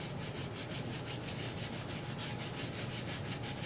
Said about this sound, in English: you are going to scrub the entire shoe, and you want to make sure that you scrub hard